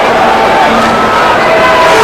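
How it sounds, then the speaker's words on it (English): Crowd murmur at Subiaco Oval during an AFL Wizard Cup match between West Coast and Richmond, a broad, steady roar of a large audience under a commentator's talk. "Crowd is built up now."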